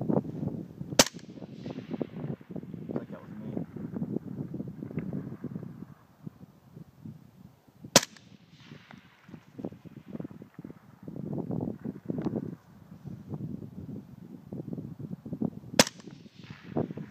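Three sharp, suppressed gunshots from a Larue OBR rifle fitted with a SureFire suppressor, spaced about eight seconds apart outdoors, with steady wind and rustling between the shots.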